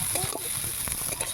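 Chow mein with fried eggs and ground black pepper stir-frying in a hot pan, a steady close sizzle with occasional stirring scrapes, no one talking.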